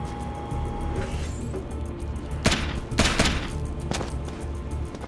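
Gunfire from armed thugs in Splinter Cell: Double Agent, a few sharp shots cracking loud over a dense, busy game soundscape with rumbling background.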